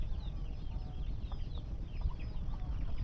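Chickens clucking on a farm, scattered soft calls over a constant low rumble of background noise.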